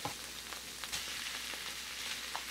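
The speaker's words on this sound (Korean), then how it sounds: "양파가 투명해지기 시작하면 파와 스팸을 넣어 볶아줍니다." Onion, green onion and Spam stir-fry in a pan, giving a close, steady sizzle with scattered crackles and soft stirring scrapes, with no voices.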